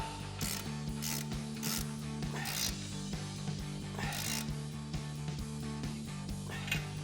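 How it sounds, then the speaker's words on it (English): Ratchet with a 22mm socket tightening a ball joint nut during a front lift install on a RAM 1500, steady clicking pawl strokes with a few sharper clicks over a constant low mechanical hum. "Now we're going to tighten this nut down and get our ball joint seated with our 22mm socket on a ratchet."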